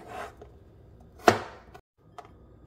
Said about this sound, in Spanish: Vamos a empezar cortando 5 dientes de ajo.